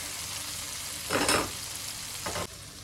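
Leafy greens (latte, bethu and rayo saag) fry in a pan with pork and give off a steady, close sizzle. Two louder stirring scrapes rise briefly above the hiss.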